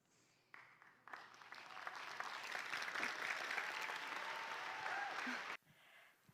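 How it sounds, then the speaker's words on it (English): Audience applause at a school TEDx event, a steady wash of many hands clapping that rises quickly, holds for several seconds and then cuts off sharply. "Can we have another round of applause for Lily Shekels?"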